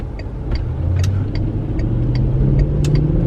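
A V8 VW Touareg towing a trailer merges onto a freeway. The engine gives a steady low drone with road rumble, heard from inside the cabin, while faint clicks tick over it.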